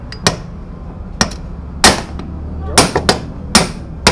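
A hammer strikes a metal engine part on a damaged Yamaha NMAX V2 scooter in a series of sharp, loud, irregular blows close by.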